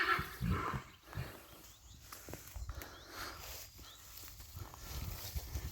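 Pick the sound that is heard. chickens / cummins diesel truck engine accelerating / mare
mare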